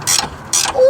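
A breaker bar and socket strain against a stuck exhaust bolt during a cat-back dual exhaust install on a Nissan 350Z, giving two close, loud bursts of ratcheting mechanical grinding followed by a brief high squeak.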